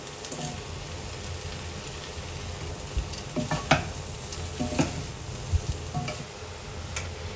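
Kottu being stirred and mixed in a pan, with scattered scraping clinks of a utensil over a continuous low sizzle.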